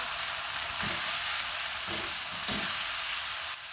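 Onions sizzling in a frying pan with salt and water added, a steady loud hiss with a few soft scraping stirs of a spoon, close up and without talk.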